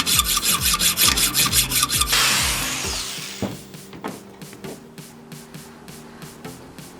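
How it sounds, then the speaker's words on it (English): A drill bites through a steel rod while a Honda CX500 motorcycle control cable is being shortened; rhythmic rasping strokes give way to a loud, dense whirring burst, then scattered clicks and taps close by. "But I should have no problem drilling through this steel rod"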